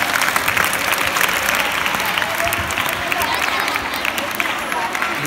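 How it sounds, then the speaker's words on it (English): Sustained, dense applause from a school audience in Nashik, steady and loud throughout with a crowd murmur mixed into the clapping. "Let's give him a round of applause."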